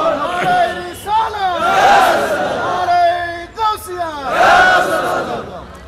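A crowd roars the religious slogan Allahu Akbar in repeated loud, ragged bursts of many voices, rising and falling about every two seconds after a lead call.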